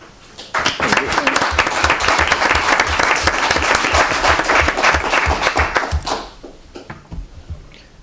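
Applause breaks out at a hospital district board meeting, a brisk dense round of clapping from a small room that lasts about five seconds and then fades off sharply, leaving scattered quiet sounds.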